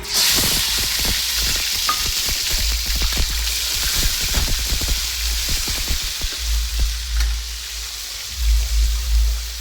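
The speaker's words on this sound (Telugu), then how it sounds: "ఈ పేస్ట్ వేసేసుకుని ఎర్రగా వేయించుకుందామండి" Garlic paste frying in hot oil, with a loud, continuous sizzle and crackle plus frequent spatula scrapes against the pan, close by.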